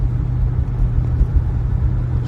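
A 1976 Chevrolet Monte Carlo Landau Edition driving along, its engine a steady low rumble with road noise, continuous and close, no voices.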